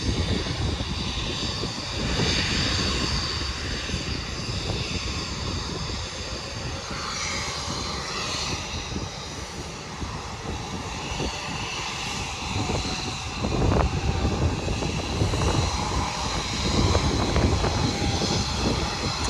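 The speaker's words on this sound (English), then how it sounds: "The E175s are so quiet." An Embraer E175 jet at Bluegrass Regional Airport in Lexington, Kentucky gives off a continuous, fairly subdued engine roar and whine that lasts the whole stretch, swelling slightly near the end, with no speech.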